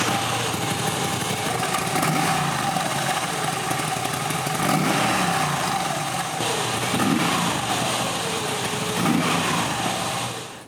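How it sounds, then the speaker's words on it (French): A Moto Guzzi V85TT with its transverse 90-degree V-twin engine runs close by, a steady, loud mechanical drone with faint rhythmic pulsing, holding even for the whole stretch. "Ce célèbre bicylindre en V à 90 degrés orienté face à la route, ça c'est la signature Moto Guzzi."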